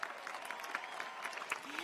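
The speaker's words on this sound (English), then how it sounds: "They deserve a round of applause as well." A room full of people applauds at a 2016 high school graduation ceremony for Citrus Valley HS, with steady, dense clapping that rises in small bursts and carries no speech.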